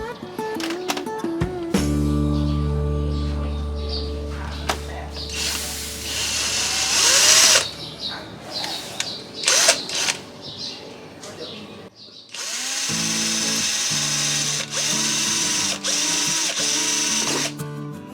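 A power drill whirs loudly in several bursts, drilling holes to fit an inner mudguard on a Honda Forza 350 scooter, stopping and restarting, with clicks and rattles between runs, close up.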